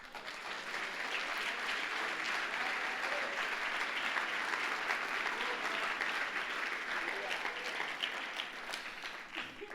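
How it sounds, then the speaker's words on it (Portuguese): A church congregation applauds steadily for about ten seconds, a dense, even wash of many hands clapping at close range with no break. "Aplauda o Senhor um pouquinho"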